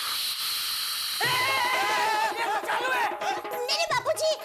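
A pressure cooker whistle shrieks with hissing steam in a home kitchen, a loud wavering tone that rises after a second of quiet hiss, with voices chattering over it.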